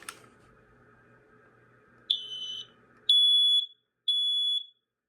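A smoke alarm from a rental property, being tested, sounds three high-pitched beeps after a stretch of quiet hum; the first is warbly and uneven, the next two are steady, loud tones.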